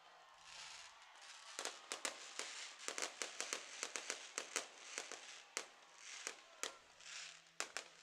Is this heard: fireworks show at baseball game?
yes